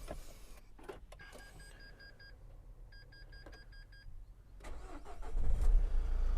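A few clicks and chimes sound, then a cold Renault Trafic van engine with 185,000 km cranks and catches, rising into a steady idle rumble that grows louder toward the end.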